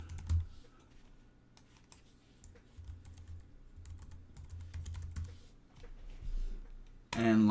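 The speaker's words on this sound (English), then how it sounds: "Put in your username and password." Soft clicking of computer keys as a username and password are entered, irregular light taps close by under low room hum, ending in a louder burst of noise.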